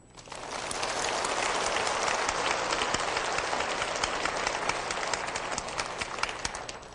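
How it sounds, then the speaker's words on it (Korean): Women in the congregation at a revival lecture applaud together, a thick, even wash of clapping that swells in fast and holds strong and loud for several seconds with no talking over it. "우리 여자들 박수."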